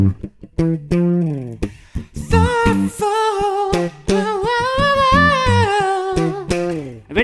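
An excerpt of a song where bass guitar and backing vocals carry the track: choppy rhythmic bass notes and short stabs give way to sustained, harmonised sung vocals in the middle, loud and full.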